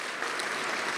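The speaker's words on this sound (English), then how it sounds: "Can we get another round of applause for all the judges?" Applause from an audience at a design and leadership awards gala, a brief, dense and steady patter of many hands clapping throughout.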